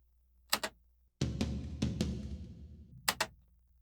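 Soloed recorded tom drum with an 8 kHz EQ boost, several brighter, snappier hits that ring out with a low tail, framed by short clicky stick taps at start and end.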